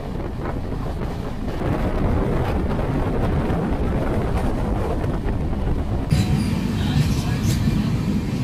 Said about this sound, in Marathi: इकडनं डिपार्ट होते आहे ट्रेन